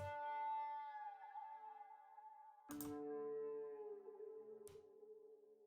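Pitch-shifted guitar accent samples, one moved up and one down an octave, played in sequence: a long ringing tone, then a second struck note sustaining, and a short click-like hit near the end.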